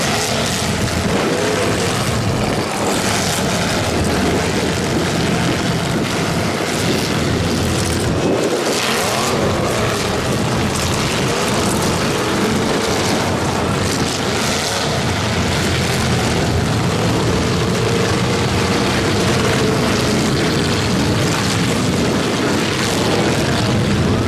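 Full-size stock cars batter each other in a demolition derby: a loud, dense roar of engines and grinding metal runs continuously, with heavy impacts landing inside the din.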